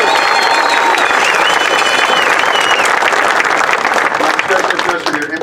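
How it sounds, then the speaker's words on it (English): Dense, loud crowd applause with some cheering fills an outdoor opening ceremony of the 2016 Warrior Games at West Point, steady throughout before easing slightly at the end. "Another round of applause for the amazing display we saw from the Golden Knights."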